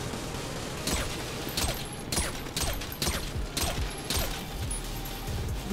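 In GTA 5, bursts of gunfire strike the bulletproof glass of an Akula armed scout helicopter, several sharp spaced impacts over a constant engine drone.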